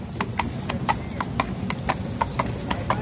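Horse hooves clip-clop at a steady, even pace on a New York City street, close and clear, heard from a pedicab riding alongside, with a low rumble of street noise underneath.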